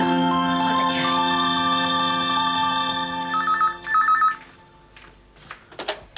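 Telephone ringing in a home during a Hindi TV drama, a loud sustained tonal ring followed by two short trilling bursts, then some scattered clicks and faint noise.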